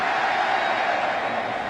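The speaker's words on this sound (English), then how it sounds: "This crowd is cranked up here today." A packed stadium crowd at a 2007 Tampa Bay Buccaneers home opener against New Orleans roars in a dense, continuous wash of cheering, loud and unbroken.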